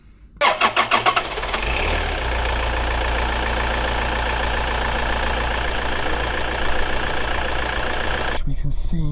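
A Toyota RAV4 D4D diesel, with its mass airflow sensor disconnected before cleaning, cranks with a few rapid starter pulses, catches, and settles into a loud steady idle just under 1,000 RPM until it cuts off.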